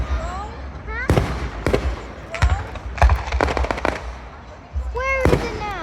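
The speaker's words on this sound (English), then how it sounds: "Look up in the fireworks right now." Fireworks bursting overhead during a multiplayer shooter game: sharp, loud cracks and booms in irregular clusters, some with whistling streaks, mixed with excited voices talking over them.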